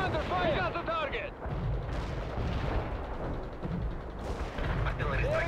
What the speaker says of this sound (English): Bombard the target coordinates.